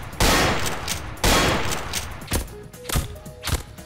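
Gunfire in Gmod DarkRP: two long, loud bursts of rapid shots close together, then a run of separate single shots and thuds, close and punchy.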